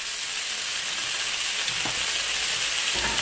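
Fish frying in a covered pot for egusi pepper soup, a steady loud sizzle and hiss filling the kitchen, with a couple of soft clunks as the pot is handled.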